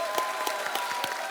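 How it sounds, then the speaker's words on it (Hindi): Studio audience applause on a Hindi comedy talk show, a dense steady clatter of many hands, moderately loud and continuous, with faint crowd noise and no speech over it. "एक बार जोरदार तालियां।"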